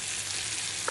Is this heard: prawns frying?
yes